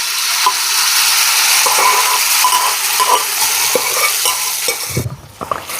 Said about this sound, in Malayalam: എന്നിട്ട് ഈ നെയ്യിൽ നമുക്കൊന്ന് ഗോതമ്പിനെ നന്നായിട്ടൊന്ന് വരച്ചെടുക്കാം